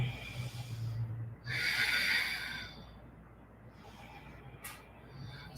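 Slow, deep breathing during a yoga flow: one loud, airy exhale-like rush stands out near the middle, with softer breaths and a low background hum around it.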